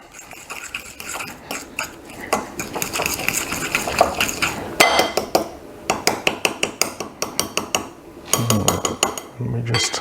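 Ground almonds being mixed in a bowl for a Sussex honey and apple pudding, with busy clattering and scraping of a utensil against the bowl throughout, close and fairly loud, with a few heavier knocks near the end.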